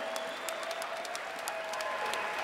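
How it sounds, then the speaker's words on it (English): Audience applause for both fighters after the main event at Front Street Fights in Boise, Idaho, a steady, moderately distant clapping with scattered sharper claps, no voices on top. "How about a round of applause for both these fighters right here again?"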